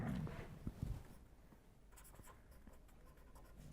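Marker or chalk writing on a board during a lecture on frequency modulation: a few soft, scratchy strokes near the start, then quiet room tone for the rest.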